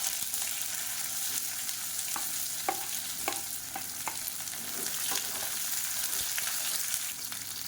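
Onions, red chillies and curry leaves fry in hot oil with a steady broadband sizzle, punctuated by scattered sharp pops and a few scraping stirs of a spoon against the pan.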